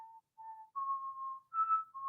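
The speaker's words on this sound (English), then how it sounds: "The whistle." A single person whistles a short tune of several clear, pure notes in quick succession, close and alone with no talking.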